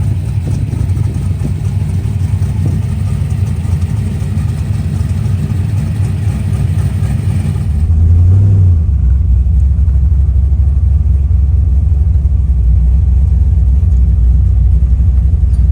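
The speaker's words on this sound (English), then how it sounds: "I'll be able to get it up to speed a little bit and get a good sense on how it shifts from 1 to 2 and 2 to 3" A 1971 Chevelle with a modified TH400 transmission accelerates from inside the cabin, a loud steady engine rumble whose pitch drops abruptly midway as the gear changes, then settles into a deeper drone.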